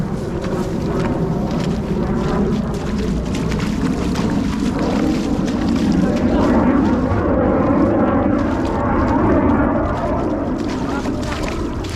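Jet fighter aircraft passing overhead during a military drill, a loud, steady roaring rumble that fills all twelve seconds, mixed with wind buffeting and faint background voices.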